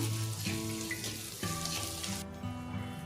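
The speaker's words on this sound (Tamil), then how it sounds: "தேவையான அளவு கருவேப்பிலை போட்டு அதையும் நல்லா வதக்கி விடுங்க" Onions and curry leaves sauté in a pan for a peanut chutney, giving a steady, close sizzle and frying hiss that runs throughout with no talking.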